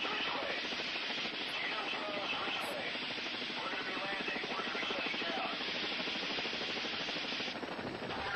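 A rescue helicopter drones steadily overhead in a dense, roaring wash of rotor and engine noise, heard from close by without let-up.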